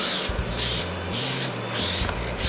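Spray gun bursts hiss onto a car ducktail spoiler for a BMW E39, with several even strokes in a steady on-off rhythm, close, loud and airy, with no talking over them.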